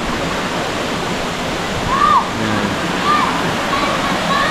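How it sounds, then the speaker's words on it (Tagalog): Cambugahay Falls, a waterfall, pours as a steady, loud broadband rush close by, with a few faint high chirps over the roar and a voice briefly speaking. "Ayan guys, Tambugahay Falls."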